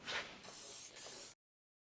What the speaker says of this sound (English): I'm going to go ahead and spray that right here